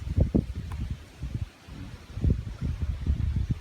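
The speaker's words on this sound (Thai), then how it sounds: "ดูนะครับว่าลมแรงขนาดไหน ต้นเรียนโยกไปโยกมานะครับ" Strong gusts from Storm Noul sway durian trees in an orchard, caught from high in a treetop as a continuous low, rumbling wind roar with buffeting surges, no voices.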